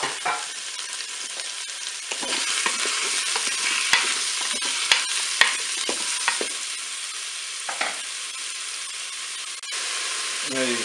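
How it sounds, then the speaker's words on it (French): Beef meatballs and button mushrooms fry in a Cookeo multicooker with a constant close sizzle, broken by occasional stirring clicks and scrapes. "je vais pouvoir faire revenir mes boulettes de bœuf"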